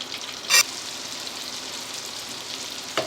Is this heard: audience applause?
no